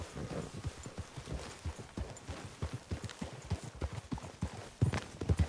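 Horse hooves clip-clop in a steady, uneven rhythm close by, with the dull thuds continuing throughout and no talk over them.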